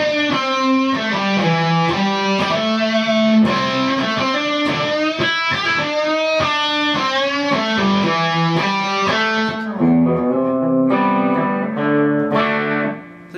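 An electric guitar played through a Hughes and Kettner Grandmeister 36 amp, captured by a room mic, rings out a distorted, sustained solo line with bent notes and quick phrases, loud and unbroken until a brief pause near the end.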